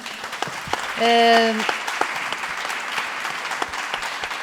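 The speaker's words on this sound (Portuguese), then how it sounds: "Vamos bater palmas, obviamente." An audience applauds at the EDULOG 2022 international education conference, with steady close clapping that fills the room for several seconds and a brief tonal sound near the start.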